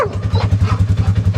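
A Ranger utility vehicle's engine starts up on a rural property with a gun range, then settles into a loud, close, steady rhythmic chug.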